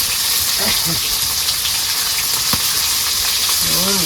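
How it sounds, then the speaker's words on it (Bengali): Bhetki fish frying in a pan at home, a steady broadband sizzle throughout, loud and close, with a brief voice near the end. "এই কিন্তু আমাদের প্রথম মাছ ভাজা"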